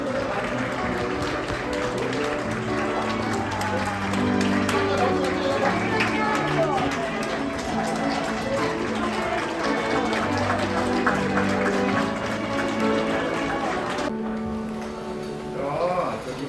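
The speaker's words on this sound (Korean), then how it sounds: "여러분 큰 박수 부탁드립니다." Wedding guests clap continuously as the bride and groom enter, a dense crowd applause mixed with music and some chatter that stops abruptly near the end.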